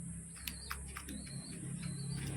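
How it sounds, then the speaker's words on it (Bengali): Four Madras pigeons are heard at home, with soft bird calls and chirps over a steady high insect-like hiss and a low hum, fairly faint and mixed with background noise. "চারটে ম্যাড্রাস পায়রা নিয়ে চলে আসলাম আজ বাড়িতে"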